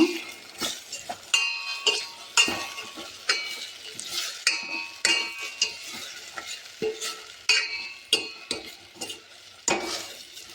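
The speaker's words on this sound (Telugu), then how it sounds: "బాగా ఫ్రై అవనిద్దామండి. పచ్చివాసన పోయే వరకు బాగా వేగనిద్దాము." Tomatoes and onions fry in a pan with steady sizzling, broken by repeated rhythmic scrapes and clinks of a spoon stirring against the metal, close and fairly loud throughout with no talking.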